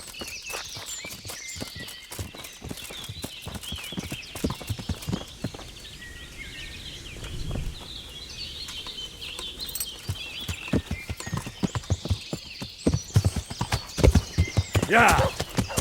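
Horse hooves clip-clop steadily in the video game Kingdom Come: Deliverance, a brisk close rhythm of hoofbeats with a whinny partway through and background game sounds.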